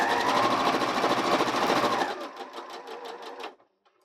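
A sewing machine back stitches the seam of a clear face mask with a fast, close whirring run, then slows into a few distinct spaced needle strokes before stopping.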